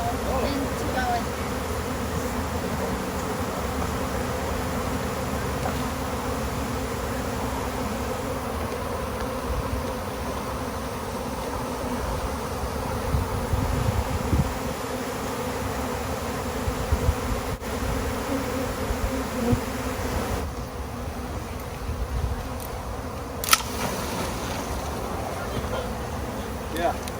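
Dense, steady buzzing of a honeybee swarm fills the air continuously, a loud droning hum with faint voices and outdoor noise mixed underneath.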